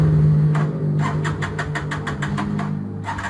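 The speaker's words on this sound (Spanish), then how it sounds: "lo que voy a hacer ahora es encender la moto hasta que se acabe la gasolina que tenga" A motorcycle with water-contaminated fuel turns over with rapid rhythmic cranking bursts, the engine struggling and sputtering up close against a steady low hum.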